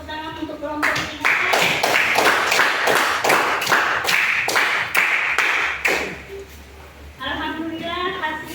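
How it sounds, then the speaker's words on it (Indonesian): Children clap together in a classroom, a steady burst of close applause lasting several seconds, with a teacher's voice speaking before and after. "anak-anak semua tepuk tangan untuk kelompok 3"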